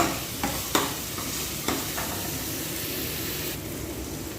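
Garlic sautés in a pan until it browns, a loud continuous close sizzle broken by a few sharp stirring scrapes.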